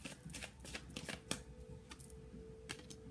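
Quiet, close card shuffling with soft repeated flicks and taps over a low steady background hum.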